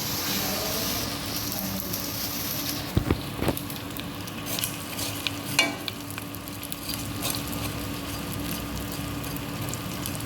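Ingredients for coconut methi laddu frying in a pan: a soft, steady sizzle with occasional light clinks and stirring scrapes of a utensil, close but fairly quiet, with no talking.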